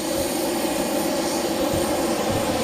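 Jet engines of aircraft at Boeing Field airport, a steady, loud, broadband roar that holds constant throughout without a break.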